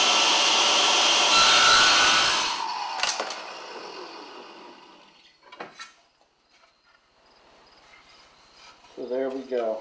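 A saw rips along the edge of a wooden tabletop, rasping loudly for about two and a half seconds before fading, followed by a few scattered knocks and handling sounds in a quiet workshop.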